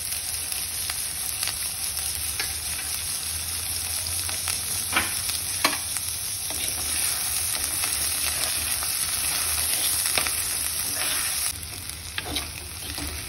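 Finely chopped onions with green chilli paste fry in hot oil, giving a loud, steady sizzle throughout with scattered scraping taps from stirring.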